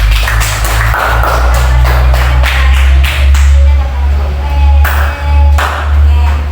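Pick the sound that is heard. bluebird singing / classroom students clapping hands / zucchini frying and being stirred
classroom students clapping hands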